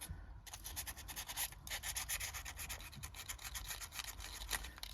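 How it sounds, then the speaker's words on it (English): Fine-grit sandpaper rubbed over a silver piece, a steady rapid back-and-forth scratching that runs close and even the whole time without any talking. "I've already done it with the really rough sandpaper"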